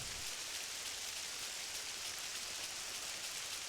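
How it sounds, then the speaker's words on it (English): Rainfall in the Final Fantasy XI video game is a soft, even hiss that holds steady across the short stretch, with no speech. "Oh, it's raining."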